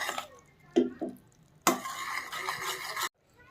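Jaggery syrup being stirred in a pan for sesame chikki: a spoon scrapes and clinks against the metal in a few quick, irregular strokes, near and fairly quiet, with brief pauses between bursts.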